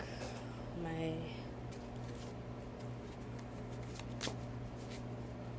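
A tarot deck is shuffled up close in soft, papery riffles and rapid card flutters, quiet and continuous, with faint background hum and a brief tonal sound early on.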